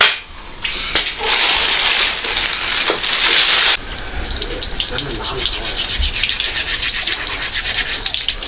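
Pig's trotters scrubbed with a steel wool scrubber, loud rapid close-up rasping strokes with running water from a tap in the background, with some talk.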